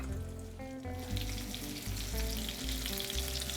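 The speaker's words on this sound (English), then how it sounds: "That's the sizzle we want to hear." Walleye fillets sizzle meaty side down in a hot frying pan, loud, steady sizzling and crackling with a low hum underneath, continuous from start to finish.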